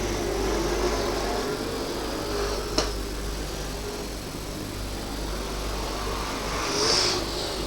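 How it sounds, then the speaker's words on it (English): A V8-powered Holden Commodore super sedan races around the Archerfield Speedway bowl in a national title qualifying heat, its engine a steady loud roar with a sharp click near the middle and a brief swell as it passes near the end. "The V8 powered racer got some grunt round this Archerfield Speedway Bowl."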